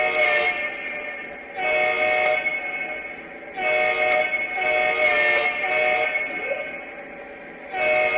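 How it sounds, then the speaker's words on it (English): A Lionel Legacy ES44 GEVO model train horn sounds in several repeated blasts, a steady multi-tone chord with short pauses between each, moderately loud. "Let's hear what this horn sounds like."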